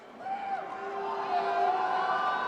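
Arena crowd at an MLG Columbus 2013 esports match roaring and cheering for compLexity, a sustained loud wash of voices with a swelling peak, alone without talk.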